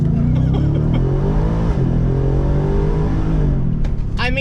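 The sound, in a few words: 2023 Ford F-150 Raptor R launching at full throttle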